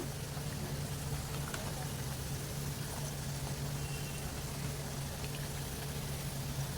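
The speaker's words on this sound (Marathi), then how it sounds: "मस्त असा गोल्डन ब्राऊन होईपर्यंत मी तळून घेते त्याला" Sabudana vada frying in hot oil gives off a faint, steady, even sizzle with no breaks, under a low constant hum.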